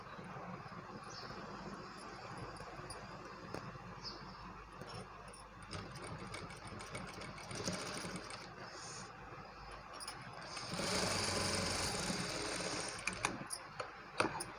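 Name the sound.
sewing machine stitching a newborn baby garment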